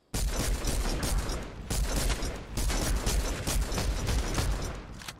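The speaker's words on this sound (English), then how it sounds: "Shooting. Guys below us." Rapid gunfire in the Fortnite video game, dense continuous bursts of loud crackling shots filling the whole stretch with only brief gaps between volleys.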